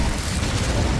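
Fiery spell blast from the Incendio charm in the video game Hogwarts Legacy, a dense roaring burst of flame that fills the whole moment loudly and continuously, with no voice over it.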